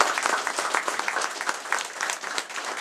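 A short, lively burst of applause from an audience at a ceremony marking the 50th anniversary of the Algerian War in Genas, France. The dense clapping is close and continuous.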